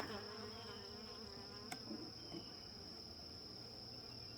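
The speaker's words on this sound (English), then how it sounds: "This is the original hive. This queen has made so many bees." Honeybees from the original hive hum steadily around an open beehive, a dense continuous buzz held close throughout, with a couple of brief faint knocks partway through.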